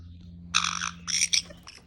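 An agitated caique parrot squawks in harsh, loud bursts close by, several rough calls in quick succession over a low background hum.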